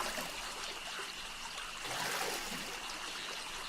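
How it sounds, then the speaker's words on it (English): River water flows in the video game 7 Days to Die: a steady, close, hissing rush with a faint trickle, continuous and even, with no voices over it. "I am in a river."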